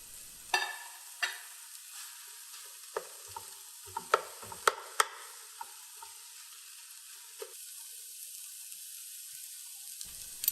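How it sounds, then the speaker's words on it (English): Steamed rice is stirred into a hot frying pan for kimchi fried rice with chicken, bringing a soft sizzle under repeated sharp spatula clicks and scrapes against the pan, spaced irregularly and close by. "we're going to add the steamed rice and mix well"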